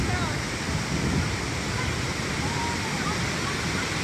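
Victoria Falls roars with a dense, constant wash of falling water, loud and steady throughout, a broad unbroken rush with no breaks.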